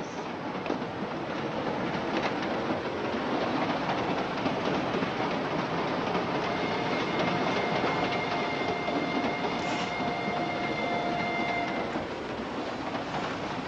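A train runs steadily on its rails, giving a continuous rumbling clatter with faint high squeals from the wheels, heard from inside the carriage with no talk.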